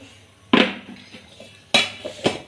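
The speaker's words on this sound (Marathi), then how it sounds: "आज इथं भांडी घास घासायचे डबे रात्रीचे तसे ठेवले होते" Dishes and lunch boxes being washed at home, with a few sharp metallic clanks of steel containers knocking together over a low background hum, no talk.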